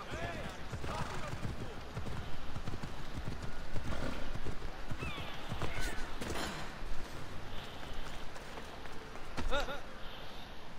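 Horse hooves clip-clop steadily while riding through a narrow street in Assassin's Creed Odyssey, a continuous trotting rhythm mixed with ambient game sound and occasional voices in the background.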